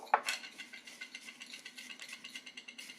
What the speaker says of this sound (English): we're gonna stir these dry ingredients up